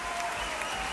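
Steady, dense applause from a large concert-hall audience at the Philharmonie de Radio France, greeting the singer at her concert; a continuous even roar of many hands, close and full, with no talking.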